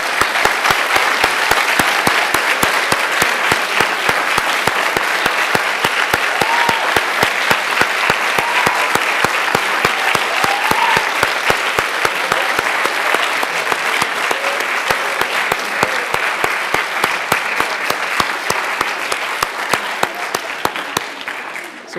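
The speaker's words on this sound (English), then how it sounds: "So it's time for a big round of applause" An audience at a college environmental science senior thesis poster session breaks into sustained applause, a loud, dense patter of many hands clapping steadily for over twenty seconds before tapering at the end.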